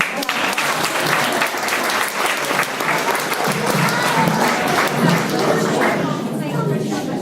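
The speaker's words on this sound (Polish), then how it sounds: "I brawa." An audience bursts into sustained applause after a child's poetry recitation at a preschool recital contest, dense steady clapping that carries on for several seconds before easing off at the end, with some voices mixed in.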